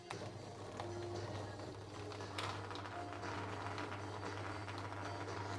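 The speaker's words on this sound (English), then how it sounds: "I'm surprised at how easy it is to blend chicken." A kitchen blender runs steadily on chicken, a constant motor hum with a strong low drone and busy whirring and rattling layered above, holding an even, fairly loud level throughout.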